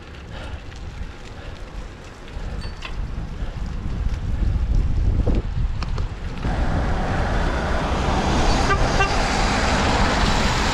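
A passing vehicle's horn toots at a cyclist amid steady road and wind noise in Kalajoki, Finland, the engine rumble growing louder partway through.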